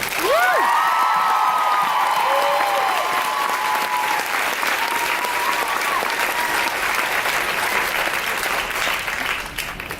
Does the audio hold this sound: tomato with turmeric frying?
no